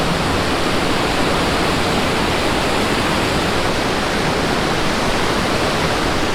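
Fast-flowing water of the Banganga river rushes in a loud, dense, unbroken roar that stays close and steady throughout, with no voices.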